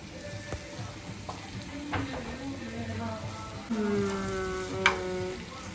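Kidneys sizzling in a pan for a tajine, a steady low frying hiss with occasional stirring scrapes as someone talks over it.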